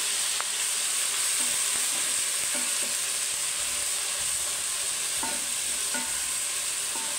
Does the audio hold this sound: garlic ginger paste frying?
yes